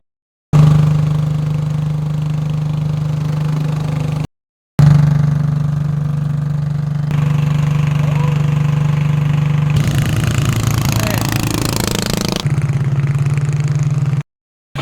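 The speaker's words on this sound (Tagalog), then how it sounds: "Ayan po ang ating bangka," A small fishing boat's engine drones loudly and steadily at close range, briefly cutting out and restarting, with a rougher clattering stretch near the end; no one speaks.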